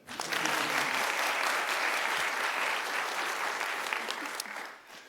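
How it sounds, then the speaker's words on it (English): Audience applause at a city commission meeting honoring local businesses, a steady dense clapping that starts abruptly, holds evenly for several seconds, then tapers off near the end. "You can clap for that"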